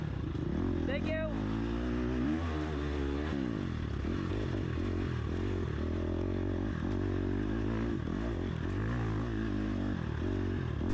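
An enduro motorcycle climbs a hill in a sprint enduro race, its engine droning loud and steady with rising and falling revs, heard close from the rider's seat, with a voice talking over it.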